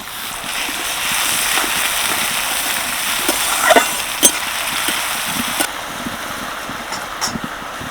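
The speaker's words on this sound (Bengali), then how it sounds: "এবারে একটা বড় সাইজের পেঁয়াজ আগে থেকে চপ করে রেখেছিলাম সেটা দিয়ে দিচ্ছি" Chopped large onion, added after cumin seeds and a dried chilli, fries in hot oil in a wok for a spinach dish. A steady, fairly soft hissing sizzle is broken by a few faint clicks and stirring knocks.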